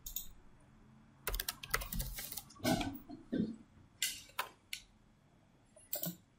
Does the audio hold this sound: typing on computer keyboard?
yes